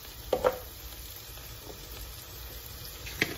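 A Philly cheese steak filling cooks in a pan with a soft, steady sizzle and hiss, broken by a few brief stirring clinks. A voice speaks briefly over it.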